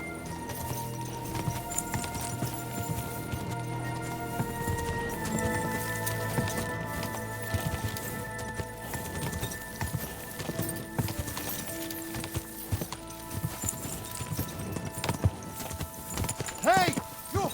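Horse hooves clip-clop in a steady galloping rhythm in the medieval game Kingdom Come: Deliverance 2, with a whinny near the end and people talking over the hoofbeats.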